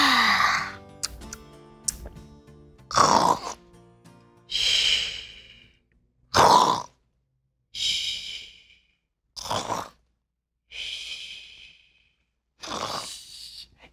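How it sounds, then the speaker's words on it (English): Exaggerated snoring in a children's show comes as slow, regularly spaced breathy snorts and sighs, close and fairly loud, separated by brief silences. "It sounds like she's snoring."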